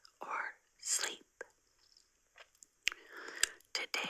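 Someone chews double bubblegum close to the microphone in a quiet room: wet, sticky mouth clicks and smacks come in irregular bursts, mixed with soft whispering between them.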